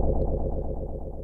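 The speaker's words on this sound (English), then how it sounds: "almost vintage echo kind of sound out of it." A very low synth note, C two octaves below standard, played on a keyboard through a wavetable reverb, giving a dense, sustained droning tone with a vintage echo-like wash that holds steadily throughout.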